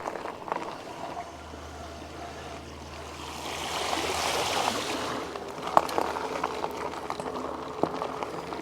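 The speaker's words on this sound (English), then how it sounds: "Or should I go through the water? Yeah, let's go through the water." A Haoqi Cheetah dual-battery full-suspension e-bike rides slowly through shallow water on a trail, giving a steady rushing, churning splash that swells midway with scattered sharper splashes, close and alone.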